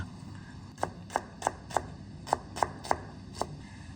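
Garlic being chopped on a board: eight sharp, evenly paced knife strikes, close and fairly loud, with short pauses between them over a quiet room hum.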